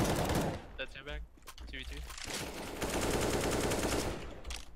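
Rapid gunfire in a shooter video game crackles in dense bursts, with a player's voice talking over parts of the clip.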